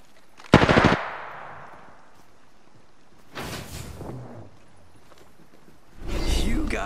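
Gunfire in the video game Apex Legends: a short burst of rapid automatic shots, then quieter bursts and whooshing effects in a busy in-game battle.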